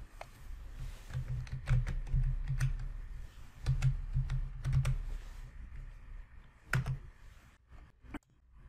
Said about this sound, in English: press the Enter key on your keyboard